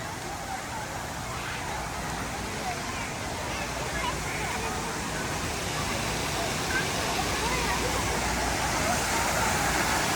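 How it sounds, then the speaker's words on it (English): Constant bubbling, rushing water of a hot tub at the Hilton Hawaiian Village resort in Waikiki, Honolulu, a dense, even wash that stays steady from start to finish. "Here's one of the hot tubs."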